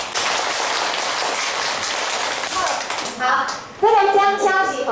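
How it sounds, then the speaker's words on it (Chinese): Group applause from elders and community members greeting each other on a visit to a community care center, dense clapping that fades before speech and voices take over near the end. "这个掌声是互恁互相欢迎"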